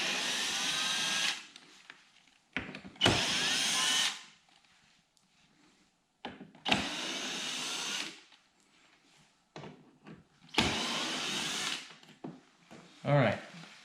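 Power driver backing out T15 screws from the upper trunk area of a C7 Corvette, several short whirring bursts separated by pauses, close and fairly loud.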